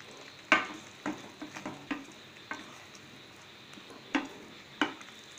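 Garlic chicken with coriander stirred in a pan, a quiet bed of faint sizzle broken by scattered scraping clacks of a utensil, several sharp knocks spaced unevenly.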